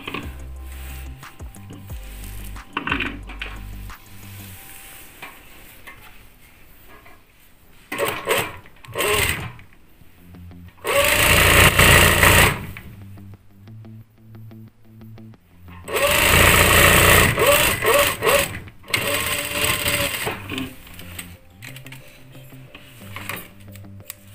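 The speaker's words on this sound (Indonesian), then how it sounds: "bagian bawahnya kita jahit lagi." A sewing machine stitches hijab fabric, running in short bursts and longer loud stretches of fast mechanical whirring, with quieter pauses and handling noise between runs.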